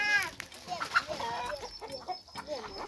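Chickens cluck and squawk in an African village garden, close and moderately loud in short irregular bursts, with faint background voices.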